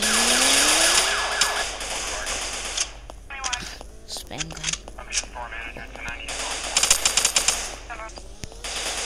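Rapid machine gun fire in a criminal roleplay video game, loud bursts up front followed by scattered shots, siren-like tones and voices talking over the chaotic action.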